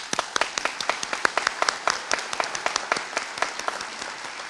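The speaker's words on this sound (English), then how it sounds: "I'd like to give them a round of applause" A small crowd at a corrections officer graduation ceremony applauds steadily with quick, overlapping claps that hold an even pace for several seconds.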